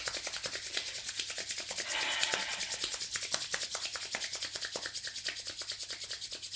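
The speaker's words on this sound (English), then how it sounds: "bring your hands together and just give them a rub" Hands rub together briskly in a fast, even back-and-forth rhythm during a yoga session. The dry swishing is close and fairly soft, with no talking.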